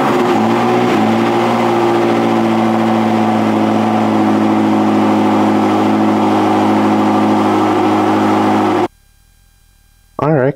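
A 2003 Lotus Esprit's engine running loud and steady, a rich droning hum with a brief rev near the start, then cutting off abruptly to near silence before a short final burst.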